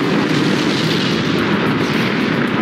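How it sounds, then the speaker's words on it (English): Railgun fire in the video game Forts, a heavy, booming blast with a rumbling low end that fills the whole moment, loud and continuous like artillery. "That's just the normal railgun."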